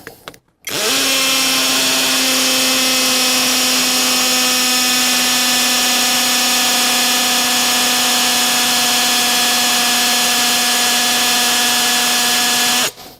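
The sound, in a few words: cordless drill drilling into stone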